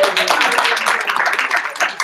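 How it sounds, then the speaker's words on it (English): A room full of people claps in a dense, brief burst of applause, loud and close, with scattered overlapping hand claps throughout. "Give a round of applause."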